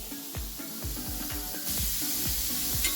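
Chopped onion sizzles steadily in a hot pan for a village-style chicken curry, a continuous bright frying hiss punctuated by repeated soft scraping knocks as it is stirred and turned, close and alone with no talk.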